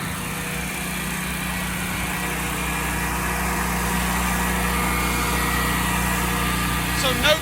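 A Generac XG 10000E portable generator engine idles smoothly with a steady, even drone and no surging, running continuously nearby and fairly loud.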